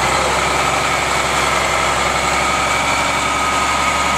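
A fire engine's pump engine runs at high RPM for drafting from a dry hydrant, a loud, steady, close engine drone with a continuous low rumble that holds level throughout.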